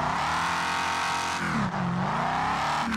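An ATV engine in the Overpass off-road simulator video game revs steadily while the vehicle crawls over rocks, the pitch dipping and rising again through a continuous loud drone.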